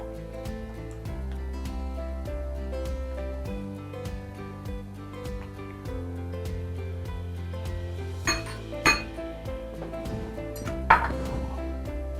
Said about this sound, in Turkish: İlk önce sıvıları karıştıracağız. Şekerimizi ilave ediyoruz.